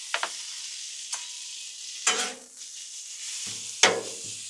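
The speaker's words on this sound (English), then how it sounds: "Let's throw down some bacon" Bacon laid on a Blackstone griddle gives a steady, bright sizzle throughout, close and moderate, with a few sharp clicks and scrapes of a metal spatula against the griddle and no talking.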